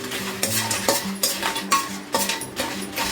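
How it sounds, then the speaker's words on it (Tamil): Red chillies and asafoetida dry-roast in a pan for paruppu podi, with a spatula scraping in about seven rhythmic strokes over a faint sizzle. "பெருங்காயம், வரமிளகாய் லைட்டாக வறுத்துக்கலாம்."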